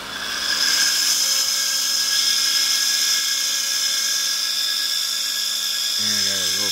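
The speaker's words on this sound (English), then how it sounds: "So I got like a little grinder wheel here." A small grinder wheel spins up and runs at a steady, loud high-pitched whine on a rotary converter setup, with a voice starting briefly at the end.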